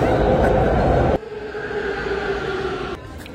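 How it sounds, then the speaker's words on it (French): Inside a moving metro train, a steady loud mechanical rumble and whine that drops abruptly to a quieter hum partway through, with a hint of voices in the carriage. "on est dans le métro"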